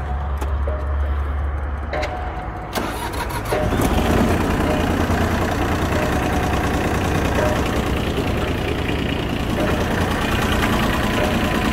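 An Iseki TU125 Japanese compact tractor engine cranks over and catches, then settles into a steady, loud, close idle with a constant mechanical rumble and no talking.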